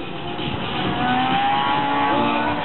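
A race car's engine, a KA-20 unit, accelerates in a loud, close, steady rising whine over a few seconds, with no voices.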